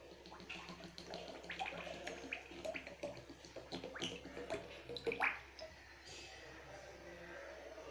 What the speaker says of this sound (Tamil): நம்ம இந்த டைமில் இந்த எண்ணெயை ஊற்றிக்கலாம்.